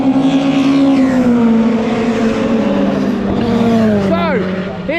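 A Ford Focus ST race car drifts past at Silverstone, its loud engine note sweeping downward as it goes by, with a brief tire squeal near the end.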